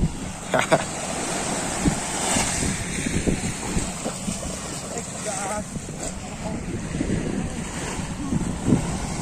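Waves wash onto a pink sand beach on Sta. Cruz Island, Zamboanga City, with a steady rushing roar, wind buffeting the microphone and faint voices in the background.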